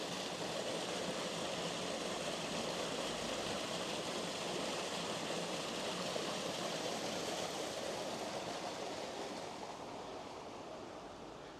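Small waterfalls tumble along a stream in Garwick Glen on the Isle of Man, producing a steady, broadband rush of water that stays even throughout and eases off slightly near the end, with no voices.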